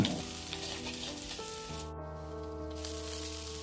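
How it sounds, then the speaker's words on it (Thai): Minced garlic stir-frying in a little vegetable oil, with a steady close sizzle and faint scraping of stirring, and a low hum running underneath throughout. "เติมน้ำมันพืชเล็กน้อยใส่กระเทียมสับครับ ผัดไปจนหอม"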